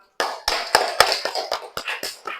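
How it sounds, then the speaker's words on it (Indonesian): A small group claps in a classroom, giving roughly nine sharp, separate hand claps in a loose, uneven rhythm, close and fairly loud, with no talking. "Oke, tepuk tangan."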